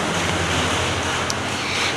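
Storm-tossed ocean waves surge and roar as a sound effect for a children's story about a boat caught in a violent storm, a steady dense wash of surf and wind with no voices.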